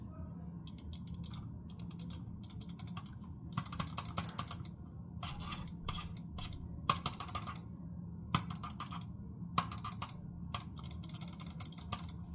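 A Logitech G305 wireless mouse clicks in quick rapid bursts separated by brief pauses, close and crisp, over a steady low background hum.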